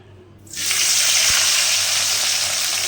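Water gushes and splashes steadily at close range as soaked dried anchovies are squeezed out, starting after a quiet moment and continuing without pause.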